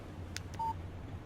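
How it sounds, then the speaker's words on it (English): In the video game Alan Wake, a phone gets a text message and gives a short electronic beep alert, preceded by a couple of faint clicks over a low ambient hum. "Text message from Barry."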